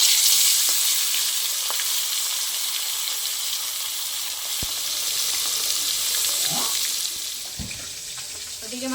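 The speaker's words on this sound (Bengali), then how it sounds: "তেলটা গরম হয়ে গেছে, এবার আমি ম্যারিনেট করে মাছগুলো দিয়ে দেবো।" Marinated fish frying in hot mustard oil in a kadai, a continuous bright hiss and sizzle that holds steady throughout, with a few faint knocks near the end.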